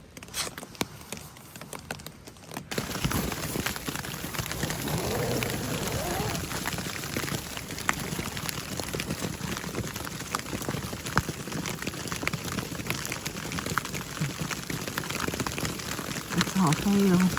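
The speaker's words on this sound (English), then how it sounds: "That is hail." Hail from a storm in the Sierra hitting a tent: a dense, steady patter that runs loud and continuous after a brief quieter start, with no talking.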